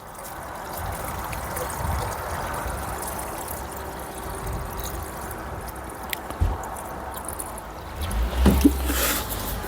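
Water is poured into the cooling system of a Peugeot Bipper van engine, a faint trickling and gurgling under low background noise, with a few knocks and sloshing splashes near the end.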